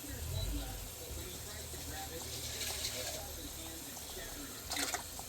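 Water runs and splashes into an emptied sauce can as it is rinsed out in a home kitchen, a steady close gush with brief sputters and no voices.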